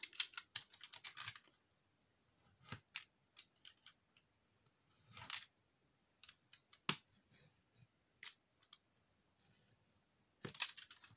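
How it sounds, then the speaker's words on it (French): Paper is cut by hand for a simple fold-out craft page in a series of crisp, close snips and rustles. The short bursts come irregularly between quiet pauses, with no talking. "Je vais découper mon papier."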